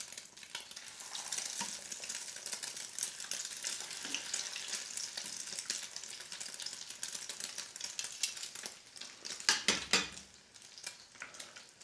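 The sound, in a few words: shrimp frying in hot oil in a pan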